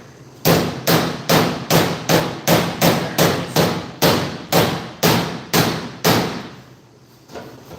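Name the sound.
hammer tapping metal body panel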